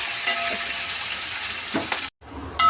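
Sliced onion with green chilli and curry leaves sautés in a pan for an anchovy fish curry, giving a loud, steady close sizzle with a few stirring scrapes, a brief gap, then the sizzle returning.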